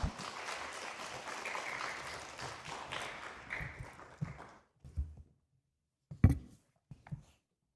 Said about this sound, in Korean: 뜨겁게 박수로 환영하겠습니다